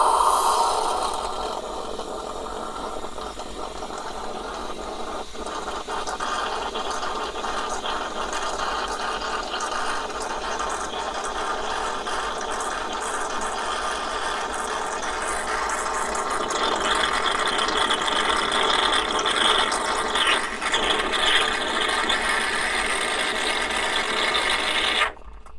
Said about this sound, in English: we're going to do exactly the same as when we froth the milk, except with hot water or warm water